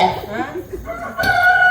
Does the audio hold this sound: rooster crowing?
yes